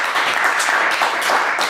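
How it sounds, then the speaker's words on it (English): An audience claps steadily after a music industry lecture, a dense, even burst of applause from a room full of listeners, close and loud with no voices on top. "I appreciate the round of applause"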